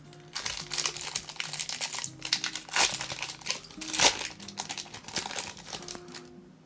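A Pokémon Shining Fates booster pack wrapper is torn open and crinkled, with busy, close foil crackling and rustling throughout and a few sharper tearing bursts.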